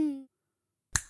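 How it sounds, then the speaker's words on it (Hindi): A single crisp cartoon finger snap rings out sharply after a short voiced tone fades into silence, from the Vir the Robot Boy animated series. "बुलाओ जिंटू को, चुटकी बजाते ही आ जाएगा"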